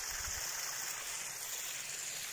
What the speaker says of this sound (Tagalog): malakas tubig dyan guys.